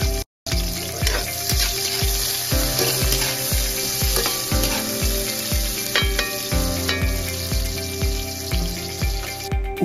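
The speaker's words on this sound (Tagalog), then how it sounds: "Ug init na ang mantika, unahon na nato og gisa ang atong bawang." Garlic and onion sautéing in hot oil in a pan for Filipino halang-halang, a loud steady sizzle with rhythmic scraping stirs and faint utensil clinks throughout.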